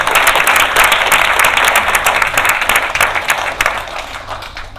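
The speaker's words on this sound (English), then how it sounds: "I think we should give ourselves a clap of hands to encourage ourselves" Loud, sustained applause from the audience at an anniversary dinner, many hands clapping at once, holding strong before gradually tapering off toward the end.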